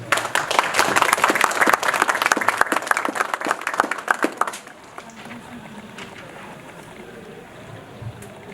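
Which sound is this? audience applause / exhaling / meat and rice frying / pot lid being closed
audience applause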